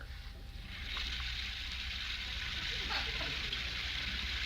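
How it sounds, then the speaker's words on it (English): Steady broadband hiss of running water, continuous and fairly close, like a shower spraying without pause. "upstairs, we hear the sound of the shower"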